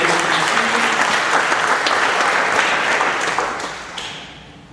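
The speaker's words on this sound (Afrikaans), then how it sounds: "Kom ons klap hande vir almal wat verjaar, vir almal wat die huweliksherdenking." A church congregation clapping together for birthdays and wedding anniversaries, a dense sustained round of applause that gradually thins and dies away near the end.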